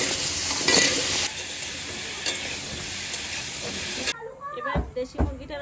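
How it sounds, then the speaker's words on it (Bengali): Potatoes fry in oil already used for frying pointed gourd and eggplant, a loud steady hiss and sizzle that cuts off abruptly near the end, leaving a few stirring scrapes and a voice in the background. "পটল ভাজা আর বেগুন ভাজার তেলে আলুটা ভেজে নেব।"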